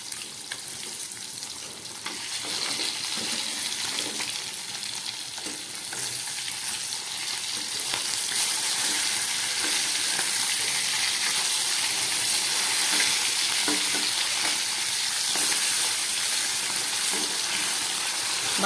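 Pieces of fresh fish fry in a pan just after being flipped, for a thin fish curry with potatoes and ridge gourd; a steady, loud sizzle builds and holds throughout with no talking.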